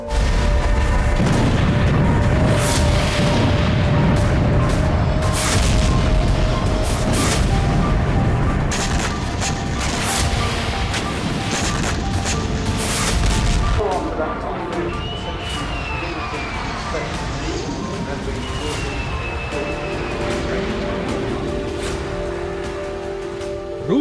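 Missile blasts in Crimea boom and crack repeatedly in a rough burst of explosions, followed by a calmer stretch with distant rumbling, whistling tones and a murmur of voices in the background.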